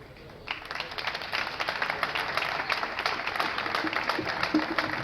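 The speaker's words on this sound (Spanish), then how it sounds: "también le damos un aplauso" Applause from the audience at a book presentation, a moderately loud crowd clapping that swells after a quiet start and carries on steadily to the end.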